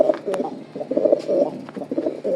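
Racer pigeons cooing close by in a repeated low rolling rhythm through the whole stretch, with a few faint higher chirps mixed in.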